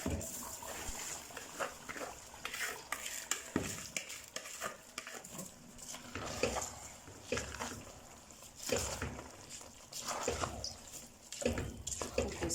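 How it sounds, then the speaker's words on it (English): Wet swishing and sloshing of grains being stirred and rubbed in water, with irregular splashes and rinsing bursts throughout, fairly close. "I'm going to give the rice a very good wash before I put it in."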